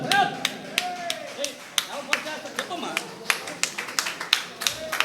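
A small crowd claps at a garland exchange during a sixtieth-birthday celebration: a steady run of sharp, fairly close claps over several seconds, with voices murmuring underneath.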